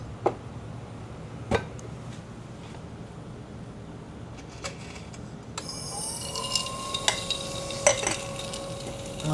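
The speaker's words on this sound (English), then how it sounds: "We're going to the tumbler." A rotary tumbler polishes a handmade 14kt yellow gold criss-cross wedding band, starting as a low steady churn with occasional knocks, then shifting into a brighter continuous rattling swish with sharp clinks, all without talk.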